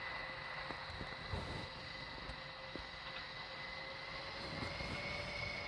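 Airliner engine drone on approach to landing at an airport, a steady distant roar holding level throughout with faint thumps, no voices.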